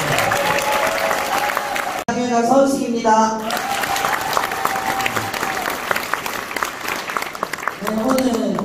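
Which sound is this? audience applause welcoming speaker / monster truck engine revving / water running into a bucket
audience applause welcoming speaker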